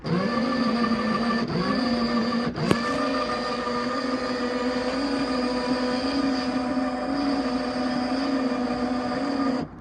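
The rear leveling jacks of a camper raise the back end with a steady, droning electric-hydraulic whine that is overdue for servicing. It stays loud and continuous throughout, broken by a couple of brief clicks and pitch shifts, with no voices.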